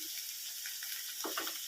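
Chopped tomatoes sautéing with onions in a pan for a village-style brinjal and drumstick kuzhambu give a faint, steady sizzle with a few soft stirring scrapes, close by.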